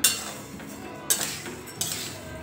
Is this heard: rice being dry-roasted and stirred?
yes